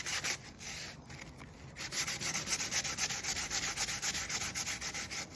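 Wood is sanded by hand with sandpaper in close, rhythmic back-and-forth scratchy strokes, with an uneven start and then a steady repeating scrape.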